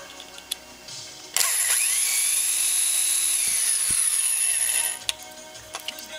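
A power drill spins up with a high whine and grinds steadily into metal for a few seconds, then stops, followed by a few light clicks.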